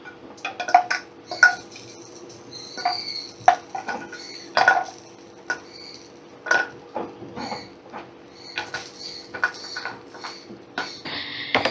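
Fried lentil dumplings are lifted from a pan with a metal utensil, a string of sharp clinks and scrapes against the pan at irregular intervals, with only a faint sizzle beneath.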